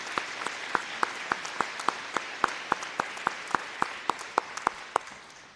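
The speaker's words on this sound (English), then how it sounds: "celebrate these outstanding women with a round of applause." Audience applauding award recipients at a women's sports honors event: a room of clapping with distinct sharp claps at a regular beat over the wash, fading slightly at the end.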